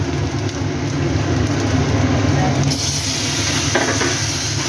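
Taro greens drop into a hot frying pan with cumin powder for a Bengali shukto and taro leaf dish, giving a steady, close sizzle with stirring scrapes throughout and no talking.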